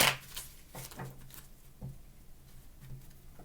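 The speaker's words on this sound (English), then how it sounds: "Last shuffle." Tarot cards are shuffled by hand in a quiet room, giving a few soft, quick riffling and tapping bursts spaced over a few seconds, faint and close.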